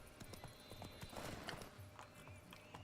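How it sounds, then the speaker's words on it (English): A horse gallops in The Witcher 3 in the Toussaint region, its quick clip-clopping hoofbeats faint and steady under low background game sound. "Run, Roach"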